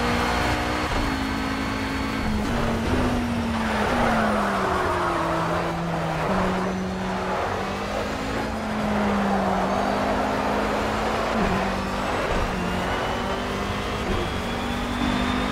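Race car engine in the Project CARS video game, loud and continuous, pitch rising and falling through repeated reacceleration and gear changes, with a steady roar throughout.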